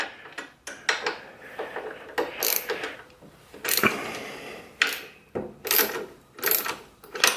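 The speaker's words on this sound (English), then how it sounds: "we're going to come down and we're going to loosen these shoulder bolts off" Shoulder bolts on a camel brace are loosened with a ratcheting tool: bursts of rapid metallic clicking and ratchet ticks, fairly close and loud, starting and stopping in irregular spurts with short pauses between, with no talking.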